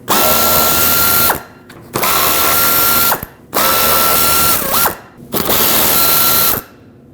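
Power drill or impact driver removing the 10mm bolts holding the front splash shield on a 2013-2019 Ford Escape: four loud, close bursts of whirring motor, each ending with a ratcheting stop and brief pauses between.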